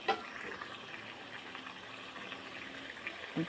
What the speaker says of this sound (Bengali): ভালো মতন কষানো হয়ে গিয়েছে এখন এখানে পানি দিয়ে দেবো